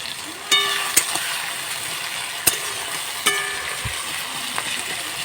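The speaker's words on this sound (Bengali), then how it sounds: "তো পেঁয়াজটা ভাজা হোক" Onions fry in a kadai (wok) with a steady, moderate sizzling hiss, broken by a few sharp metallic clicks and taps from a utensil.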